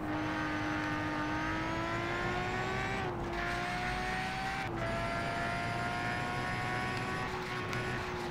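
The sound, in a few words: car engine racing in DiRT 2 video game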